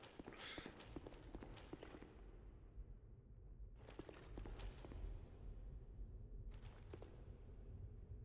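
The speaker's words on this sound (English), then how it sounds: "Oh, it's the horse" Horse hooves clop in the video game Dark Souls 2, in a few quick clusters separated by short lulls, faint and somewhat distant over a low rumbling background.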